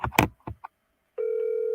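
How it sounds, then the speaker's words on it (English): A telephone places a call: a few short dialing tones and clicks, a brief pause, then a steady loud ringback tone held to the end. "pick up your phone. I'm calling so you can talk."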